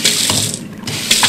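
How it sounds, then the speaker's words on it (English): A Moen Brantford kitchen faucet's pull-down sprayer on full stream, a loud, steady rush of running water with gentle splashing fluctuations, heard up close for a moment. "the pull down spray actually has 3 functions, which we're on full stream right now for cleaning dishes"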